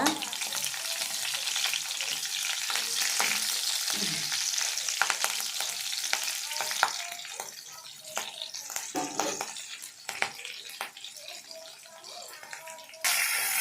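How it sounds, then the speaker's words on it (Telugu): Mustard seeds, cumin, slit green chillies and masala frying in a pan, a dense bright sizzle with stirring scrapes and clinks that eases toward the end before a sudden loud burst. "ముందుగా రెడీ చేసి పెట్టుకున్న మసాలా పచ్చివాసన పోయేంత వరకు బాగా వేయించుకోవాలి"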